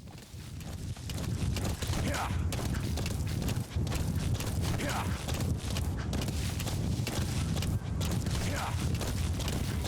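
Riding D-Horse in Metal Gear Solid V brings a continuous run of hoofbeats with faint creaks of movement, steady and close for about ten seconds, with no speech over it.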